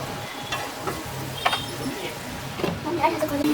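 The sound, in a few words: eggplant frying in oil with curry leaves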